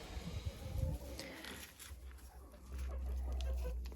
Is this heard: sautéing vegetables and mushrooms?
no